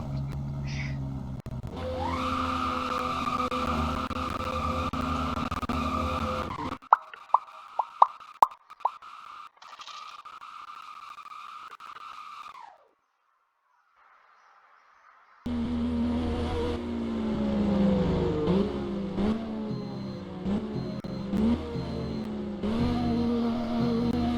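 In the Roblox driving game Driving Empire, a car engine drones steadily, then drops out amid a few sharp clicks and plops as the handbrake is pulled, before a brief quiet and the revving engine returning with pitch sweeps.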